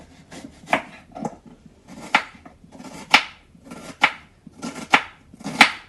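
Onions being sliced lengthwise into long strips on a cutting board, close knife strokes landing in a steady rhythm, about seven distinct chops alone with no talk.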